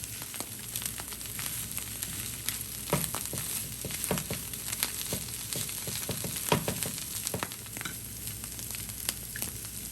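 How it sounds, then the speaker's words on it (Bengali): Tuna fried in a pan with potatoes, onion, green chillies and spices sizzles steadily while a utensil stirs and scrapes through it in irregular knocks, close and alone with no talking. "ভালোভাবে নাড়াচাড়া করে আমি মিশিয়ে নিব আলুর সাথে।"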